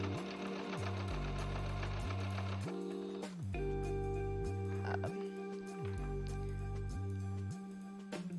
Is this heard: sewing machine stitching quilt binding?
yes